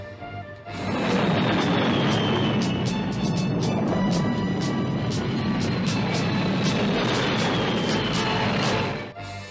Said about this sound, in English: Screaming takeoff.